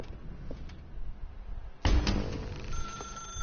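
A telephone rings in the video game The Stanley Parable, faint tones early, then a louder ring burst midway with an electronic tone carrying on afterward.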